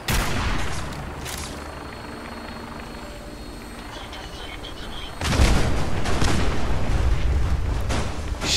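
Gunfire and explosive bursts in the post-apocalyptic video game Fallout 4 rumble loudly and steadily, with a heavier blast surging in about two thirds of the way through; no talk is heard.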